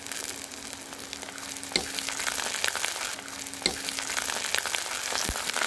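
Curry leaves and coriander leaves fry in hot oil for a vegetable kurma, a dense continuous sizzle with occasional sharp spatula scrapes and taps against the pan, close and fairly loud, no voices.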